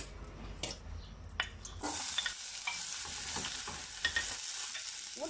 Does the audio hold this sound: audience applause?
no